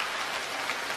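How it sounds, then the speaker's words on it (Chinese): An audience applauds at a Guo Degang and Yu Qian crosstalk show, giving dense, steady clapping like heavy rain that fills a short moment without talk. "我希望各位能把最热烈的掌声送给冯兆阳"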